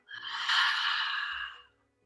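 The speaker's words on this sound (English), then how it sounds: "Exhale out through the mouth." A single deep, breathy exhale out through the mouth, close and steady, lasting about a second and a half before trailing into quiet.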